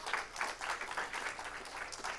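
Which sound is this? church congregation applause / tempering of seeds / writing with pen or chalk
church congregation applause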